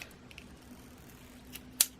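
Scissors cut a wooden skewer for a pumpkin decoration, making a single sharp snip near the end of an otherwise quiet moment.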